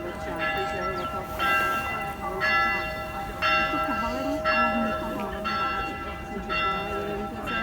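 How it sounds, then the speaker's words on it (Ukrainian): A church bell rings in slow, regular strokes about once a second, clear and somewhat distant over low outdoor background noise. "Послухайте дзвін церкви."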